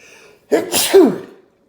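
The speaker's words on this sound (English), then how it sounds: "sorry, a sneeze is coming." A single loud, close sneeze with a sharp intake of breath before the explosive burst, alone with no talking.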